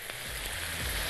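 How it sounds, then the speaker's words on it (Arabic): Mushrooms sauté in melted butter in a hot pan, making a steady, dense, close sizzle that holds at an even level throughout. "هنشوح تشويحه حلوه يدي طعم حلو للايه للمشروم كده"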